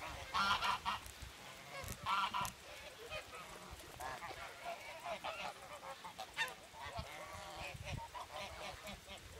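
Farm geese returning home give a chorus of honks, several nearby calls rising and falling in bursts throughout, with continuous open-air ambience underneath.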